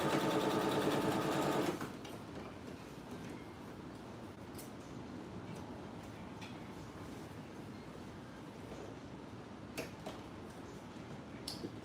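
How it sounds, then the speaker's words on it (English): A sewing machine top stitches a skirt, running loud and fast at first, then dropping to a quieter steady mechanical whir with occasional small ticks. "top stitch on this to keep it flat"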